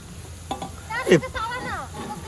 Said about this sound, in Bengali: আমাদের পকোড়া ভাজা হচ্ছে।